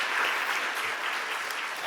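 A church congregation applauds after a Sunday sermon, a dense, even wash of many hands clapping together, steady and moderately loud for the whole stretch.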